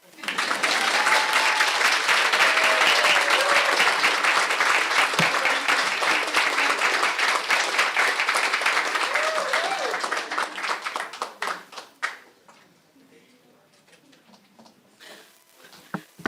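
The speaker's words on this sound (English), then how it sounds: "Could everyone please stand and give our scholars a round of applause?" A school board meeting audience gives a long, loud round of applause for student scholars, with some voices heard over it; the clapping thins out and fades to near quiet toward the end.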